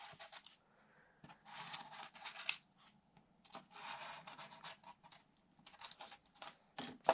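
Scissors snipping through traced paper to cut out a pattern piece for a papier-mâché bat armature, quiet scratchy cutting strokes in short bursts separated by pauses, with no talking.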